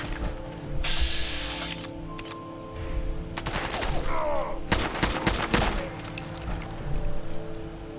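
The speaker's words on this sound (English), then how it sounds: "Let's keep the assault rifle. This thing is pretty good at headshots." Assault rifle gunfire rings out in the video game Fallout 4, with several loud bursts of shots mixed with clanking mechanical game sounds.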